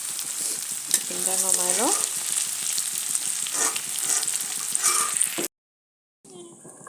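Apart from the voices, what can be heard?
food frying in a pan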